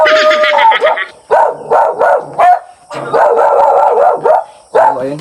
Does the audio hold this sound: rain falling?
no